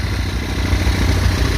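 A mini bike engine runs steadily nearby, a loud rapid putter at a constant idle without revving.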